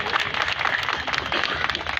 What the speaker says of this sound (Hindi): एक बार मैं चाहता हूं इनके लिए भी जोरदार ताली बजा दो